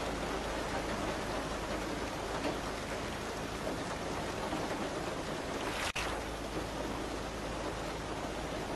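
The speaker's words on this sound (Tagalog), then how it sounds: "Pabilog po, palalaki kasi ang patak ng ulan ngayon." Steady rain falls throughout, a dense even hiss of drops on surfaces with no voices and one brief sharp click partway through.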